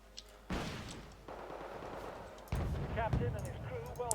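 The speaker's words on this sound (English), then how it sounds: "I don't think that I've seen the AI use mortars that often. It's interesting that they do it now." Mortar and gunfire in the real-time strategy game Wargame Red Dragon, with sudden loud blasts and a continuous rumble of battle, while someone talks over the combat.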